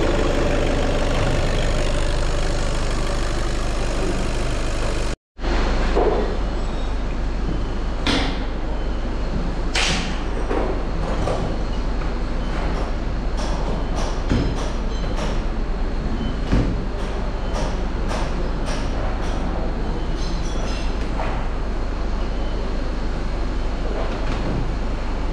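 A 2016 petrol car engine idles smoothly and quietly after servicing, a steady low hum throughout with a few faint clicks and one brief dropout near the start.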